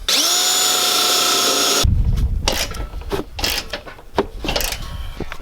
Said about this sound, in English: Now I'm just gonna drill that one right there.